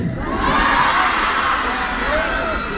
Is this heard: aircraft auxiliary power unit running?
no